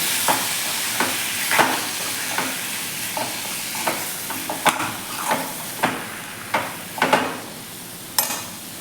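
Tomatoes are stirred into a masala for tomato chutney in a sizzling frying pan, and a spoon scrapes the pan in distinct strokes about every half second to second over a soft hiss, close to the listener.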